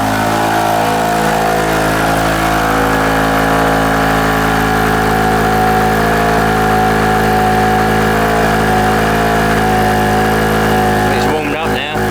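A small portable generator runs steadily under load while powering a Numatic vacuum cleaner, a loud, even, close mechanical drone with a vibrating hum that holds throughout and changes only in the last second.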